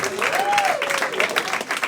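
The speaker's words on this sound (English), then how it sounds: "let's have a round of applause for Johnny McDonald, ladies and gentlemen." Applause from a comedy show audience, steady clapping filling the space for a couple of seconds with some cheering mixed in.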